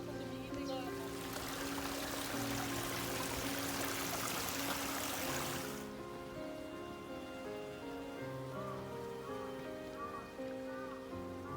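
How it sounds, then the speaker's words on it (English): A small waterfall splashes into a pond in a Japanese garden at Katsura Imperial Villa in Kyoto, making a steady rushing patter that is louder for the first half, then softer, over a soft tonal background. "A small fall was made to entertain the guest with water sound."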